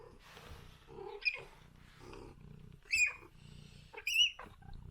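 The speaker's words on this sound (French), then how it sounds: "Vous l'entendez, j'adore comment elle miaule." A female cat meows twice in high, drawn-out cries, close by, between quieter rustling and faint background murmur.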